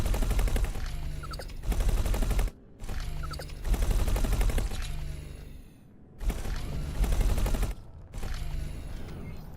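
Sustained bursts of gunfire in the space game X4: Foundations, loud rapid volleys in several long stretches separated by brief pauses, with no talking.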